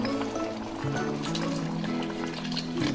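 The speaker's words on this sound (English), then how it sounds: "Okay, let me add the water." Water poured steadily into a pot of vegan gumbo, a continuous close splashing fill lasting a few seconds with no talk.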